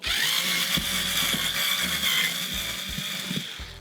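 Removing screws from a panel makes a near ratcheting, clicking tool sound with short mechanical bursts and a steady whir. No one talks.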